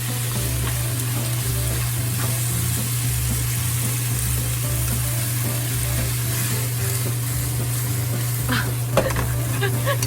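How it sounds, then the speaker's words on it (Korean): Spicy pork belly jeyuk bokkeum stir-fries in a pan with a continuous close sizzle and scraping stirring strokes, steady throughout with a low background hum and a brief clatter near the end. "이걸 다 넣고 그대로 볶으면 돼요 그냥."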